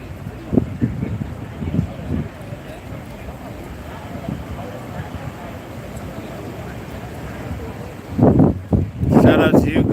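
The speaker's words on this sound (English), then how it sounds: "it's very windy right now" Wind buffets the microphone in a steady rushing roar, with louder gusts near the end, while people talk over it, outdoors in the Bronx near a partially collapsed building after an explosion.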